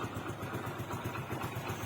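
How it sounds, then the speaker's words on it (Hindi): A motorcycle idles just after starting without throttle, a low, even, rhythmic engine putter at moderate distance, steady throughout with no revving. "तो इंजन साउंड सुन सकते हैं आप, कूल बाइक है ये देखें"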